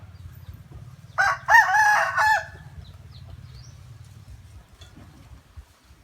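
A rooster crows once at a temple grounds, a loud, clear cock-a-doodle-doo with a rising then sustained call lasting about a second, standing out over a low rumbling background.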